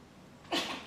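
A single sudden sneeze bursts out sharply after a moment of quiet room noise.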